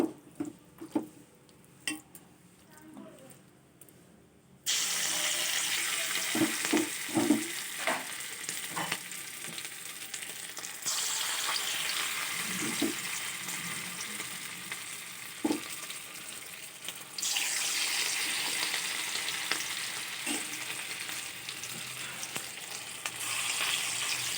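Banana flower fritters fry in oil, a steady loud sizzle that drops out briefly when pieces are flipped or added, with scattered spatula clinks and no talk.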